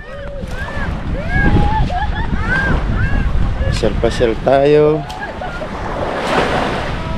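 Surf washes onto a seashore beach with a broad, steady wash of waves, partly masked by wind buffeting the microphone, while people talk nearby and voices are heard over it.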